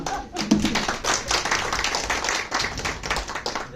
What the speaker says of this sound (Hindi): तालियां भी इसी जोश से बजनी चाहिए ना।